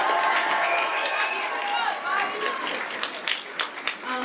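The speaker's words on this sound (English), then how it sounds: "let's give them a round of applause for that" A school audience claps for a beginning student orchestra, a dense wash of applause mixed with crowd chatter that tapers into a few scattered claps near the end.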